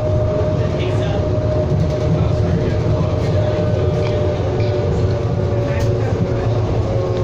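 Steady low rumble and hum of a Calgary CTrain Siemens SD160 light rail car on the Blue Line in motion, wheels droning continuously on the track, with people chatting quietly inside.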